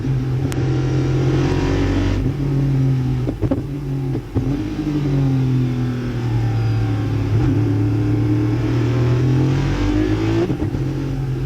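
A race car engine at Phillip Island drones loudly and steadily, held close and restricted to about 7,500 rpm. Its pitch rises and dips gently through gear changes, with a few brief knocks and no talk.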